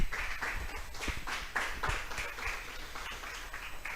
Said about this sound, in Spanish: Vamos a brindarle un fuerte aplauso a nuestro Dios.